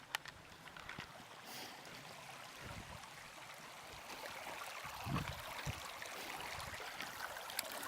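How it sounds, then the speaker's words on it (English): Fast-moving stream water rushing steadily, a faint, even wash with a few small splashes and gurgles, no voices. "I chose this spot in the stream to get some water because one, it's fast moving"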